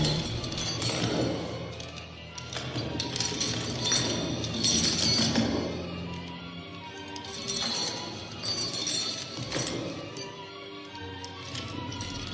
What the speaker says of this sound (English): A clinking noise followed, as if someone in the cellar were dragging a chain.